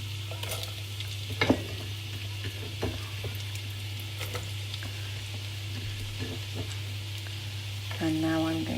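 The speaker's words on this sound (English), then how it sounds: "So in this pan I've added some oil and I'm going to add the onion." Onion frying in oil in a pan, a steady soft sizzle with a few light stirring clicks, while a low hum runs underneath and a brief tone sounds near the end.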